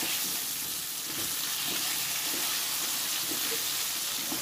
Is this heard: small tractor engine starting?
no